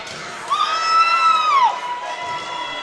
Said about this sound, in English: Plenty of cheers from the hometown crowd.